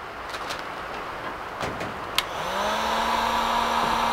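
Heat gun blowing hot air to shrink heat-shrink tubing over the eye of a hook while rigging a marlin lure, a steady close whooshing hiss that rises and holds after a couple of faint clicks.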